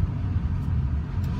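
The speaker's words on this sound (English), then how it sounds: "This is a really nice running truck." A Ford diesel truck engine running steadily, a low continuous rumble heard up close with no other sounds over it.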